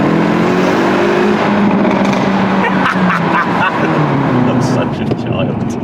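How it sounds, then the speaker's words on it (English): A Hyundai i30N Drive-N Limited Edition hot hatch runs in a tunnel, its engine note reverberating as exhaust pops and bangs crackle through the echo, loud and close, with someone talking over it. "All right, let's go for one more pop and bang before we leave the tunnel."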